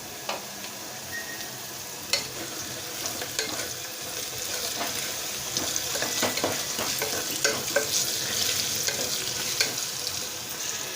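Sliced onions are stirred in a hot pan with turmeric and salt, giving steady frying sizzle and a scatter of sharp spoon scrapes and clicks throughout, close and fairly loud, with no voices.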